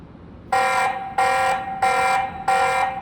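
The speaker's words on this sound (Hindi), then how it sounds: "ये जो अलार्म ऑप्शन है इसको अगर आप ऑन करते हो तो आपके कैमरा में अलार्म बजना स्टार्ट हो जाएगा" Alarm siren from a TP-Link Tapo C210 security camera: four loud, evenly spaced tonal bursts, each about half a second long with short gaps between them, repeating steadily with no talk.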